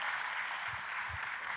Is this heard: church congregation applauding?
yes